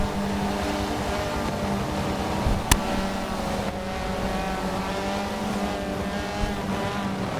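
Race cars at Sebring during a Michelin Pilot Challenge race pass at sunrise, a continuous roar of engines swelling and receding at moderate distance, with one sharp click partway through.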